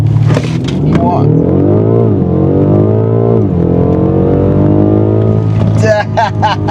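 A BMW M5 launches hard, its engine roaring close and loud, the pitch climbing steadily through each gear before dropping and rising again. An excited voice whoops near the end.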